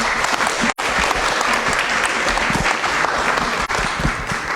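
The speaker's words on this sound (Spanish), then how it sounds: "para quien pido un fuerte aplauso" Loud, sustained audience applause for a Peruvian botanist at a book presentation, dense steady clapping from a crowd with two brief dips, no voices over it.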